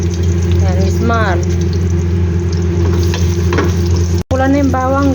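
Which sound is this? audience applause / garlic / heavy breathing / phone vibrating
garlic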